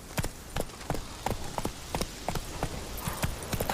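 Roach the horse's hooves clopping in Witcher 3, a steady run of sharp, evenly spaced hoof strikes over a faint rain-like hiss, fairly close and with no talk.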